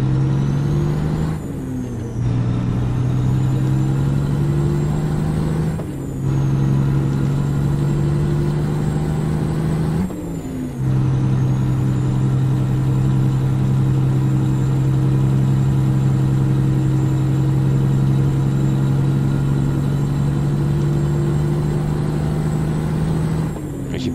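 Freightliner truck with a Cat 425 engine in American Truck Simulator, a loud steady diesel drone held through the run, dipping briefly three times as gears shift, then climbing again.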